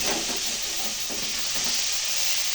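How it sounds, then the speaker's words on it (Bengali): Food sautéing in a pan on a gas stove, stirred as it fries: a steady sizzling hiss with soft scraping strokes, close and unbroken, with no talking. "এবার আমি কষবো এটা"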